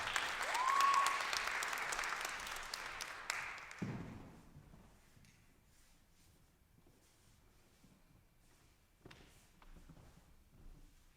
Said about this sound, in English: Can we please give a warm round of applause for Tyreek Walker?